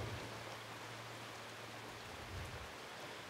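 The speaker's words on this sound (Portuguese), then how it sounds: "Começou a chover agora, já tá correndo água." Heavy rain falling steadily on open farmland in rural northeastern Brazil, with runoff water starting to flow; a dense, even hiss of rain throughout, close and continuous, with no voices.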